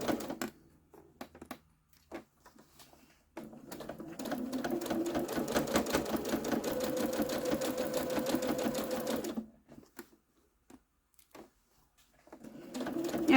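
Domestic sewing machine stitching a notebook cover at a 3 millimeter stitch length, needle set to 5.3, running steadily for several seconds with brief short bursts before and after, close and clear.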